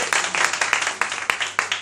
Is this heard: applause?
yes